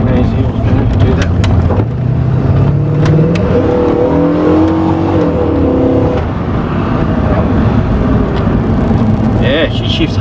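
A Holden VN SS ute fitted with a Holley carburettor revs hard and shifts gears, its engine note rising and dropping loudly and continuously while people talk over it.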